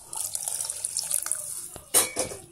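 Water is poured into a pot of drumstick and brinjal sambar, a close splashing trickle with a brief louder gush near the end, without talk.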